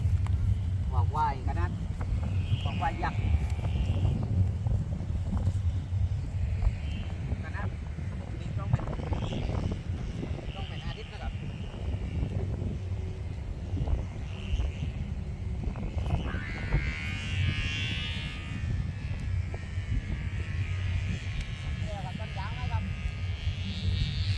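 Strong wind roars over an open rice field while a large buffalo-shaped kite flies, a constant buffeting low rumble against the microphone that lasts throughout, with someone talking over it.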